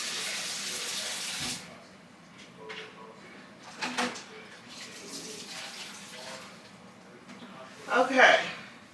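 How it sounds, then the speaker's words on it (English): Tap water running while a bowl is washed in a kitchen sink, a rushing stream with light clinks and a sharper splash near the end, close by with a voice talking briefly. "Let me wash this bowl so I can use this for my potatoes."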